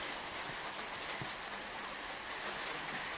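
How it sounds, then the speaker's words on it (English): Steady rain falls outside during a first oil-filter service on a Honda Rebel 500 motorcycle, a continuous hiss of drops on surfaces, fairly loud and even throughout with no talking. "Excuse the noise if you can hear noise. It's just started raining."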